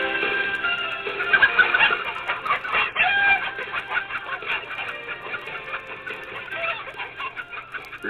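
Chickens on a poultry farm cluck and a rooster crows in a radio advertisement, a busy close flock of clucks and squawks running continuously with no talk.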